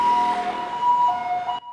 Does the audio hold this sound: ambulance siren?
yes